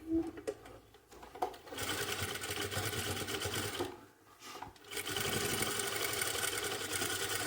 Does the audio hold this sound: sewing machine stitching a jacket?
yes